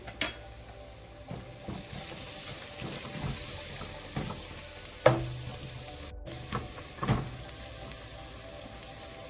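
Egg curry masala with coriander and turmeric powder sautéing in a pan over medium flame, a soft steady sizzle with a few louder spoon scrapes and stirring knocks scattered through.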